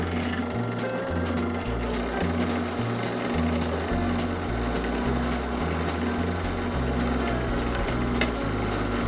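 A drill press hums steadily in a workshop during a van seat-swivel build, its motor drone mixed with a stepping low pattern and scattered small clicks, loud and continuous with no talk.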